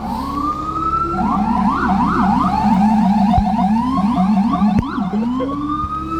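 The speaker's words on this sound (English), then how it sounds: "You hear the sirens now?" Several FDNY emergency vehicle sirens wail loud and continuous on a city street, overlapping rising-and-falling sweeps and rapid yelp cycles, with a brief horn blast near the end and steady traffic rumble beneath.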